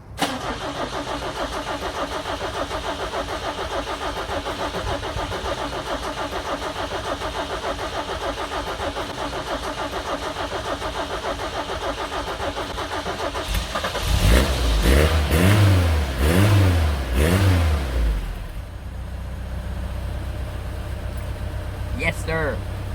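A 1972 Toyota Celica RA21 idles with a rough, lumpy rhythm, then revs hard several times in quick bursts before dropping back to idle, with someone talking over it.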